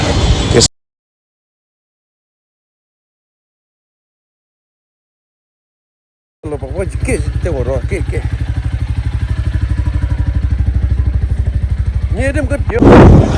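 A 350 cc motorcycle idles and revs close by with a steady, loud engine chug lasting several seconds, following an abrupt stretch of silence.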